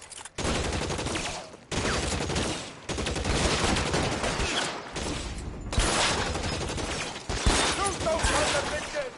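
Gunfire in a shooting video game, a continuous fusillade of rapid shots with short breaks, loud and close, with voices shouting over the combat.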